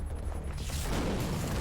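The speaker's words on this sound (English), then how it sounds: "Boom, cool explosion shot with them in the foreground." Explosion in an episode of the TV series Lucifer, a dense, loud rumbling blast that swells into sustained roaring noise with no voices over it.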